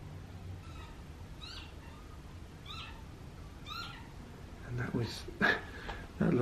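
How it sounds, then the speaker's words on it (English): A lapwing calls several times in short, rising, wheezy cries at a distance, followed by louder nearby rustling and handling noises. "Lovely sound you heard was the lapwing I was hoping to photograph"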